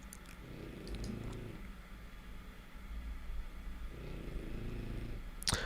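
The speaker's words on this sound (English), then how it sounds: "It's not a cat, it's my dog snoring. I have a French bulldog." A French bulldog snores in two slow, rumbling, purr-like bursts separated by a quiet pause, low and close over a faint steady background hiss.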